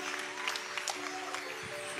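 A congregation at an evening church gathering applauds to welcome a surgeon to the stage. The clapping is a steady, moderate wash of hands over a sustained tone in the background.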